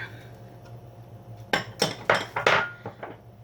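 Minced meat being mixed by hand in a bowl with chopped onion, coriander, parsley, tomato and diced vegetable cores for Iraqi dolma stuffing, giving a run of soft wet squelches and clinks against the bowl, close and alone.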